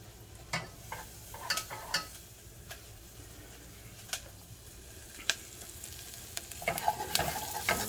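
Pieces of meat are pushed around a frying pan, with a soft, steady sizzle broken by scattered sharp scrapes and clicks of the utensil against the pan.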